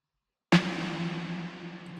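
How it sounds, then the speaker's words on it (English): A single accent snare hit after a short silence, muffled and dark under a low-pass filter, followed by a long washy reverb tail that slowly fades. "Then I put some reverb and a low pass filter on it."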